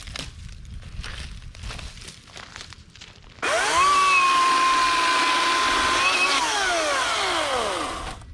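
AEG chainsaw starting up at a campground: a few short rattling pulls, then the motor bursts into a loud close whine that holds steady and shifts pitch before easing off.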